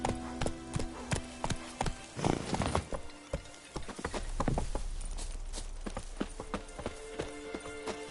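Geralt's horse Roach gallops in The Witcher 3, a loud, close clip-clop of hooves in a steady running rhythm, slowing into looser hoof falls and a low rumble of movement near the middle before the galloping resumes.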